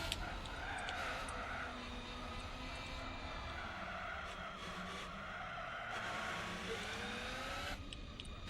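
Race car braking hard and skidding in Gran Turismo 4, a steady roaring engine and tire squeal running throughout, loud and close.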